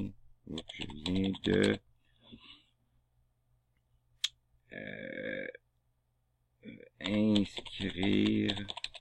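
Computer keyboard typing as text is added to a document, a short burst of key clicks falling in a pause between stretches of nearby talking.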